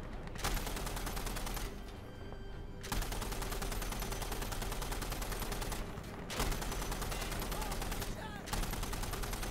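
Sustained gunfire and fusillades from the game Insurgency: Sandstorm, dense and continuous with brief gaps, loud and close, with some talk mixed in.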